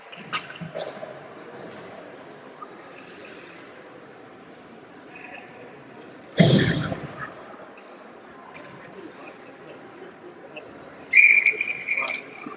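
A referee's whistle at an ice hockey game between the MN Moose and Madison Capitols sounds a short, sharp blast near the end, after a burst of crowd noise midway, with an arena announcer talking throughout.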